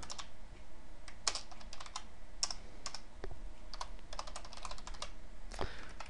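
Typing on a computer keyboard while writing C++ Qt code, quick irregular bursts of clicking keystrokes with short pauses between runs, close and clear with no talk.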